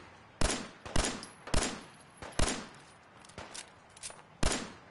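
Gunfire in Fallout 4 rings out as about eight sharp, loud shots spaced irregularly, each with a quick ringing tail, over a low game ambience with no talk.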